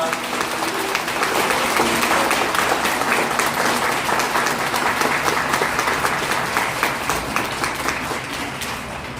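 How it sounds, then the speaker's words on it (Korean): Sustained applause from a large crowd of wedding guests for the bride and groom, steady and loud throughout, with a few voices mixed into the clapping. "신랑 신부 인사 큰 박수 부탁드립니다."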